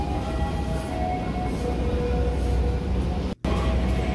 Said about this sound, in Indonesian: ini ada Argo Parahyangan yang baru datang